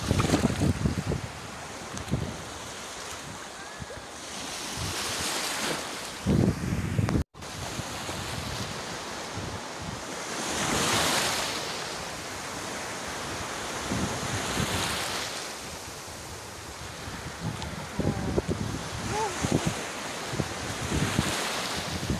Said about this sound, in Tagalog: nandito na tayo sa dagat